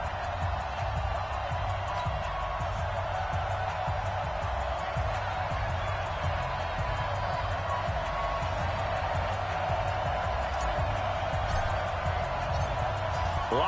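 A raucous stadium crowd at a Jets versus Buffalo Bills football game makes a dense, steady roar that stays loud and unbroken throughout.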